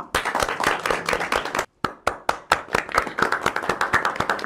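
Scattered hand claps from a small group at a subscriber celebration event, sharp and irregular, with a brief gap before clapping resumes and continues.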